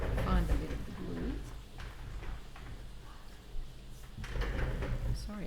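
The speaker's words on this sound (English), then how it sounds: "Sorry if that chair is very noisy, but I'm on a tiled floor." A chair scrapes and shifts across a tiled floor in a crafting session, with rough broadband scraping and knocks running through the clip beneath ongoing talk.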